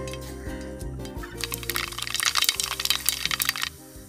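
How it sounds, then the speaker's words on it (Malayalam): Mustard seeds pop in hot sesame oil for a lemon pickle, a dense close burst of crackling that builds midway and cuts off abruptly, over steady background music. "കടുക് പൊട്ടി കഴിഞ്ഞു"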